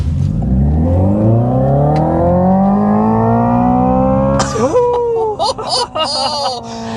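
A 641 hp 2025 Hyundai IONIQ 5 N electric car accelerates hard, its synthetic engine note climbing steadily in pitch and loud up close, then breaking into simulated gear shifts near the end while a person exclaims.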